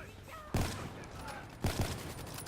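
Two sharp, heavy sniper rifle shots in Black Ops 3, spaced about a second apart, each a loud close crack over steady game ambience.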